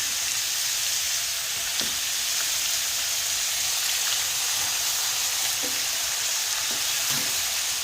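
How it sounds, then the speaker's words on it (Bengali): Ginger and cumin paste fries in a pan, giving a steady close sizzling hiss with a few faint stirring knocks and no voices. "আদা আর জিরে বাটা দিয়ে একটু ভালো করে এখন আমি দিয়ে দিচ্ছি"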